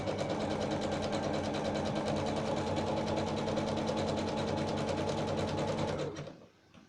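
Sewing machine stitching elastic onto a makeup bag runs steadily at high speed for about six seconds, a close, dense mechanical whirr and chatter that stops abruptly and rings down briefly at the end.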